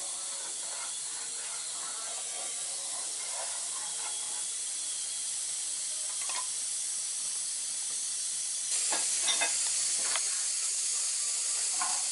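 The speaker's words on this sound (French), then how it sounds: "Après, on met le foie et cuit en même temps dans la petite sauce." Marinated liver simmering in a small sauce in a pan for Algerian kebda mchermla, giving a steady, moderately loud hiss with scattered crackles and pops that grow louder and denser near the end, with no talking.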